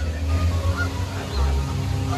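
A goose honks repeatedly at close range near the Cargo Loco ride in Adventure Port at Kings Island, its calls loud over a steady low outdoor rumble.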